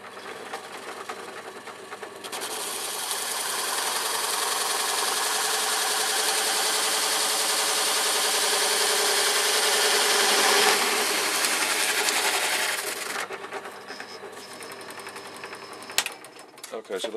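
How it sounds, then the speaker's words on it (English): A power drill boring through a birdhouse gourd whirs steadily for about ten seconds, close and loud, then winds down, followed by quieter handling sounds and a sharp click. "So I'll just go through and drill this hole."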